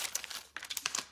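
A clear plastic envelope crinkles in the hands, giving a quick, faint flurry of crisp rustles in two short clusters.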